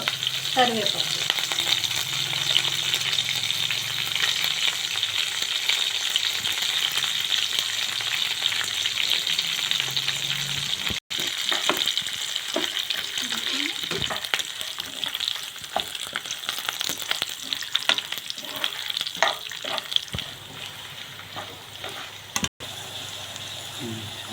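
Hing (asafoetida) and spices sizzle and fry in hot oil for a tempering while making raw mango pulihora and chutney, a steady loud crackle throughout with stirring clatter and brief voice in the background.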